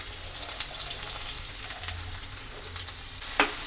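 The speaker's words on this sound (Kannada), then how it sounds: "ಸ್ವಲ್ಪ ಫ್ರೈ ಆಗಬೇಕಿದು" Chopped onion and spices fry in a pan for spicy egg masala fried rice, a close, steady sizzle with occasional stirring scrapes and a louder crackle near the end.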